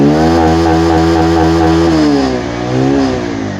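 A Bajaj BS6 motorcycle engine is revved during a check of its oxygen sensor, droning loud and close at a steady high idle before dipping and then climbing again.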